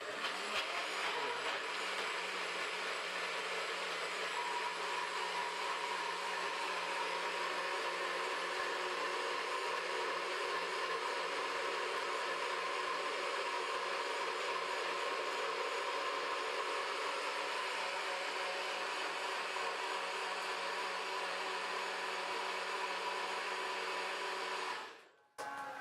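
A kitchen appliance grinds salad dressing ingredients, a steady, loud whirring drone that holds unbroken for about 25 seconds and then cuts off abruptly.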